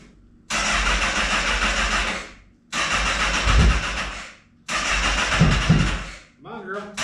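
A Honda CBR1000RR under rebuild cranks over three times with its starter, each long whirring attempt separated by short pauses, without catching, and faint sounds follow at the end.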